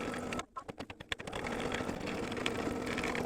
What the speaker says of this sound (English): I'm going to let it stitch on its own.